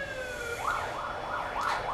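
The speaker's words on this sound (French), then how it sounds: "Une sirène qui passe." An emergency vehicle siren passes outside, wailing in repeated rising and falling sweeps, heard at moderate distance over a quiet background with no talking.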